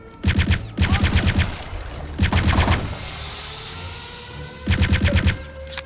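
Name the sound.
Venom chaingun firing in Return to Castle Wolfenstein video game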